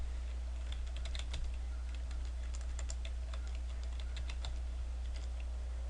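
Typing on a computer keyboard while writing HTML for a simple web page: steady, quiet key taps in irregular bursts over a low constant hum, with no talking.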